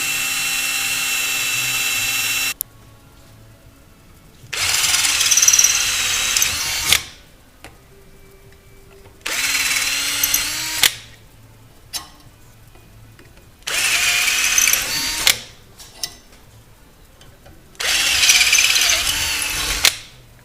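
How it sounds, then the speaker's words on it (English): A power drill whines in four separate bursts of a couple of seconds each, drilling through a metal handle and spacer, with quiet pauses between, grinding loudly close by. "So we're going to drill through."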